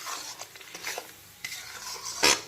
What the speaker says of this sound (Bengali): এখন আবারও বেশ কিছুক্ষণ সময় নিয়ে পুরো মশলাটাকে কষিয়ে একেবারে ভাজা ভাজা করে নেব